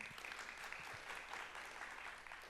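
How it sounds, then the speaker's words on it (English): Faint, distant applause from a panel discussion audience, a steady rustling patter of many hands that holds evenly throughout without speech. "One more round of applause."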